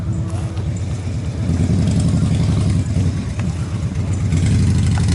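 Motorcycles rumble steadily at a bike weekend gathering in Lagodekhi, a loud, continuous low engine drone with some revving building toward the end, no clear voices.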